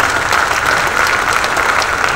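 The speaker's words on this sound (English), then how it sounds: "Give them a round of applause." Steady, dense audience applause fills a council restructuring meeting hall, loud and continuous throughout, with no pauses or distinct individual claps standing out.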